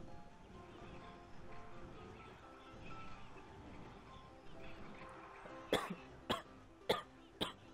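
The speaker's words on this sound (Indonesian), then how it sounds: "Sorry, batuk." Four sharp coughs from a gamer in quick succession near the end, loud and close, following a stretch of quiet background murmur during a Clash Royale friendly battle.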